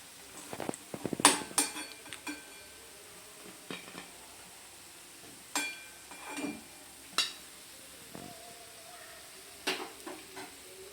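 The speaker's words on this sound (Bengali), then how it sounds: "এবার এগুলো আমি প্লেটে উঠিয়ে নেব।" Fried flour biscuits are lifted from the pan onto a plate, with scattered metal clinks and scrapes of a utensil over a soft hiss of oil, irregular taps spread out with quiet gaps between them.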